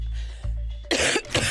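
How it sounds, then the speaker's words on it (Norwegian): A person coughs in a quiet indoor setting in a Norwegian drama, a low hum first, then a sharp double cough near the microphone, loud and alone. "Kan du være snill og ikke hoste, det forstyrrer vel?"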